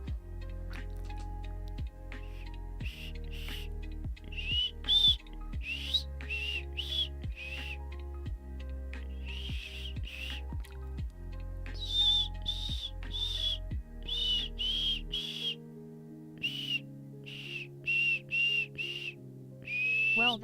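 A person who cannot whistle tries anyway, producing a string of short, breathy, airy tones that come in bursts over about twenty seconds, with a few thin squeaky pitches mixed in.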